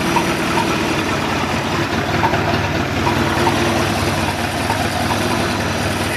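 MerCruiser 3.7L boat engine running out of the water on muffs in a yard, with a worn impeller pushing too little water. It idles in a steady, low, continuous rumble throughout, with no voices.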